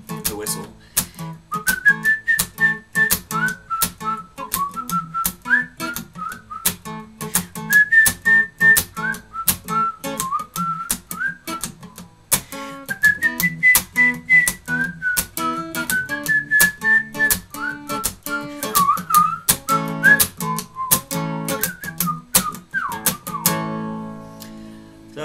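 Whistled melody in a song with a driving, walking beat, the bright tune rising and falling in repeated phrases over steady percussive backing throughout.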